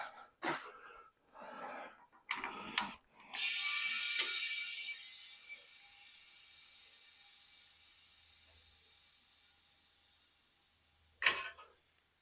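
A vehicle shop hoist lowering, with a few sharp ratchet clicks, then a long hiss of air release that fades away, and one more sharp click near the end.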